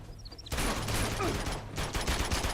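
Rapid bursts of AK rifle fire in Uncharted 2: Among Thieves crackle in close, dense volleys after a brief quieter start, continuing to the end.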